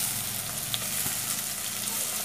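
Tomatoes and curry leaves drop into hot oil in a pan for a bottle gourd masala gravy, giving a constant loud sizzle and frying crackle with a few stirring clinks, and no voice over it.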